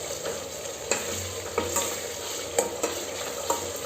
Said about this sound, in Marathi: थोडा गॅस फास्ट करायचा, म्हणजे मसाला मस्त भाजला जाईल.